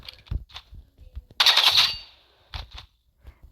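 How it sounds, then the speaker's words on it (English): Burst rifle firing in the video game Rivals: a single loud, sharp burst stands out clearly between faint, scattered in-game clicks and footsteps, then fades quickly. "I hate this burst rifle, but I have to use it for content."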